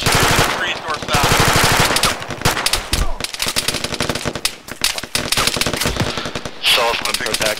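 Arma 3 firefight with shooters in the trees, loud rapid bursts of automatic gunfire and single shots crackling throughout, with a voice briefly under the shooting.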